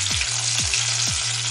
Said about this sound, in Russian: Пока вторая партия кабачка у нас обжаривается